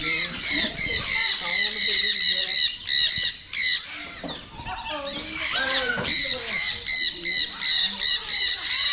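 Birds at a bird park in Yelagiri squawking loudly and repeatedly, harsh overlapping calls close by with a few brief pauses throughout.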